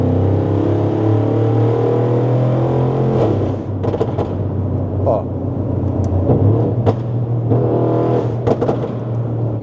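A Mansory-tuned Mercedes G-Class rumbles through a tunnel, its engine revving with sharp exhaust pops and crackles that echo off the walls, loud and close, with a brief voice exclamation.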